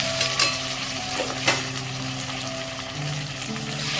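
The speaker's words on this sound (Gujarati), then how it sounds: "ત્યારબાદ નાખશું આપણે એમાં ટમેટા।" Tomatoes hitting hot spiced oil in a pan for a Gujarati potato curry, giving a steady close sizzle with stirring scrapes and a couple of sharper spatula clinks, no voices.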